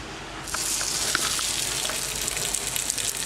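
A cod fillet with an almond crust is laid into a hot pan greased with olive-oil cooking spray and starts frying with a sudden, loud, steady sizzle that crackles on without a break. No one talks.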